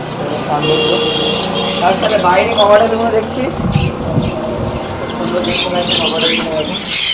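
Pet parrots, including sun conures and pineapple conures, call from cages in a bird shop, with steady bright chirps and squawks overlapping through a busy room while people talk nearby.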